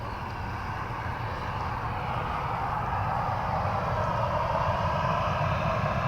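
A jet aircraft high overhead, heard from the ground near a runway as a faint, steady broadband roar that swells slightly over several seconds, with no talking.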